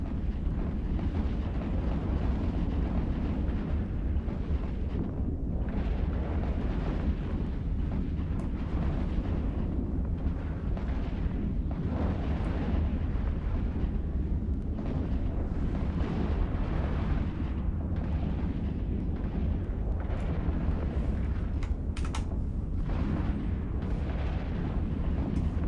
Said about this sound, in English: I didn't quite get a good explosion picture off of that.